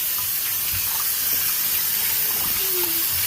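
Water runs steadily as a pineapple is washed in warm vinegar water, a constant rushing splash like a running tap, loud and close throughout.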